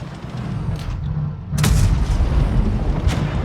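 An Object 140 tank gun in World of Tanks Blitz fires with a loud, sharp boom followed by a sustained low rumble, with a further crack near the end, over constant battle noise.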